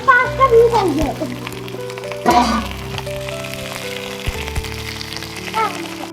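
Onions and green chillies frying in pure oil for khichuri give a steady close sizzle with crackling bursts, loudest near the start and again around two seconds, while voices talk over it.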